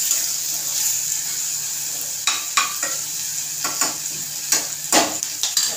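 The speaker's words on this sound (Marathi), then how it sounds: "शेंगदाणे चांगले तेलात परतले." Peanuts frying in oil for masala rice make a steady close sizzle, broken by repeated scraping clacks of a utensil stirring through the pan in an irregular rhythm, with no voices.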